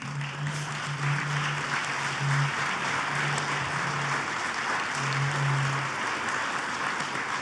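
A banquet audience applauds volunteers, a sustained, even wash of many hands clapping that fills the hall throughout, with a low steady hum beneath it.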